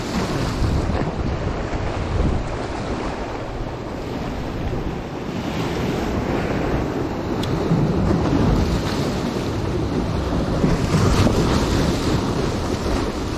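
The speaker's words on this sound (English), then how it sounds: "The water's choppy, it's windy." Choppy ocean surf washes steadily against a rocky shore during striped bass fishing, with strong wind buffeting the microphone in a constant loud roar and no voices.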